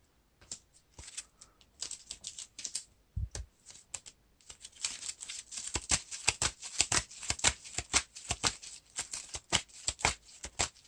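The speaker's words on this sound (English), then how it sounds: "Shuffle the encounter deck." Cards from a Lord of the Rings card game encounter deck are riffled and shuffled close up in quick bursts of crisp flutters and taps, sparse at first, then a dense rapid run.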